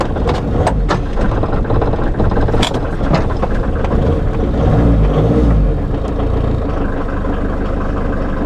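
A faulty car engine on a broken-down car in Spain runs close by with irregular knocking, sputtering and rattling, uneven clicks and a low rumble rising and dipping.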